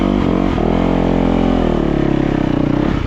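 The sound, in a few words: Yamaha YZ450FX dirt bike engine revving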